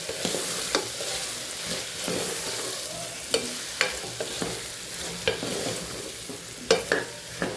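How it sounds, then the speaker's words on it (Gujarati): Chopped bottle gourd sautés with spices and red chili powder in a pan, giving a faint continuous sizzle broken by scattered stirring clicks and scrapes of the spoon. "મસાલા સાથે આપણે સરસ સાતળી લેવાનું છે"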